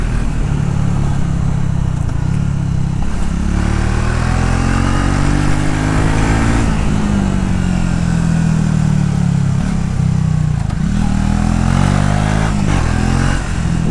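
A 2025 Triumph Speed T4 motorcycle is ridden through traffic, its engine giving a loud, continuous bassy drone that rises and falls as it revs and pulls under steady wind noise.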